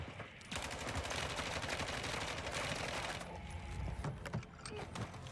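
Sustained automatic gunfire in Warzone 2, rapid continuous bursts at moderate distance with brief breaks, dense and loud throughout.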